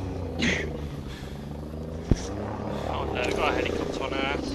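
Helicopter in the video game Ghost Recon Breakpoint, a steady rotor drone humming low in the mix beneath game effects, with voices speaking over it and a sharp thud near the middle.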